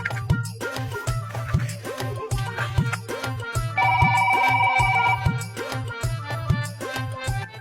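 Ringtone-style telephone ringing plays over loud, rhythmic background music with a steady beat, with a sustained electronic tone appearing midway, in a Hindi drama scene; the call is from a cement supplier.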